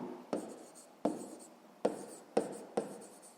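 Pen writing a math solution by hand on paper, five distinct scratchy strokes in a steady rhythm, close and fairly quiet with nothing else audible.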